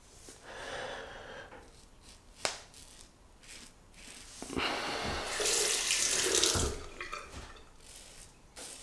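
Running tap water rinses a razor in a sink between shaving passes, with a Muhle R41 Twist safety razor, a steady hiss of water rising louder in the middle and end, a few sharp clinks and taps in between, no talking.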